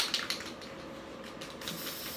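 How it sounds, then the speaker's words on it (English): Aerosol can of Krylon Matte Finish spraying a steady, continuous hiss from about a foot away over a woodgrain craft surface, with a couple of short sputters at the start and no talking. "And I'm going to get a nice good spray on there."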